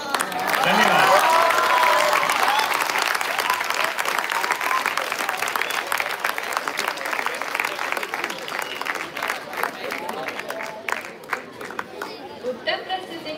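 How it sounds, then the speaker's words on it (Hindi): Audience applause at a school inter-house Hindi comic poetry recital, a dense sustained clapping from a crowd that starts loud and gradually thins into scattered claps with some murmured chatter. "उत्तर प्रस्तुति के लिए तालियां हो जाए।"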